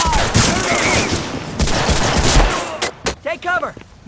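Rapid bursts of gunfire in Medal of Honor: Frontline crackle loud and close, dense and overlapping, then break into a few separate shots with shouted voices mixed in.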